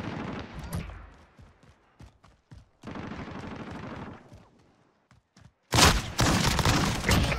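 Call of Duty match on the cramped Shipment map: scattered single shots and thuds lead into sustained bursts of automatic fire, ending in a louder, closer volley, with no voices over it.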